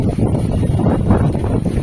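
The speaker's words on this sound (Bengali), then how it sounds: "ওফ কি হাওয়া" Strong gusty wind ahead of a storm, with light rain starting and clouds building, buffets the microphone in a loud, continuous roar with no voice.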